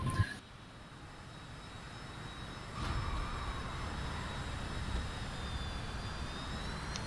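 An AJS 37 Viggen jet landing in a flight simulator, with a steady engine roar and a faint high whine throughout, a thump at the start and another soft bump partway through as the aircraft touches down.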